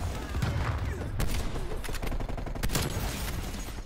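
Rapid video game gunfire in Call of Duty on the Nuketown 84 map, dense bursts of shots with sharp cracks and booms layered over a continuous loud firefight.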